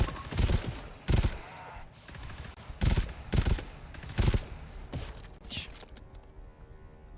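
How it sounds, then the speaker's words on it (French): Pistol gunfire in the video game GTFO fires in about seven sharp, loud shots at irregular intervals, each with a brief echoing tail, followed by quieter fading rumble. "Non mais arrête de tirer, c'est fini là mon gars"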